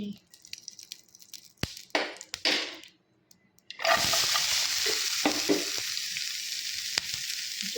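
Ingredients for Tulu-style jackfruit gatti fry in a pan: scattered clinks and scrapes of stirring, then a loud, steady sizzle bursts in and carries through to the end, with occasional utensil knocks.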